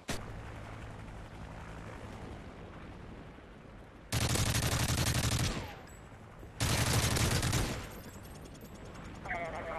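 Bursts of rapid automatic gunfire in the Modern Warfare 3 video game, two loud sustained volleys a couple of seconds apart over a noisy game backdrop.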